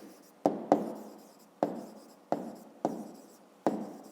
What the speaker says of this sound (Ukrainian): ми можемо в кінці кінців написати, пишемо